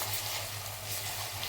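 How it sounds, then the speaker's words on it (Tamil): Ginger garlic paste, hand-pounded on a small grinding stone, sizzles in a pan, a steady soft crackle with a low hum underneath, with no voice. "இஞ்சி பூண்டு பேஸ்ட்டு போட்டுக்கலாம்."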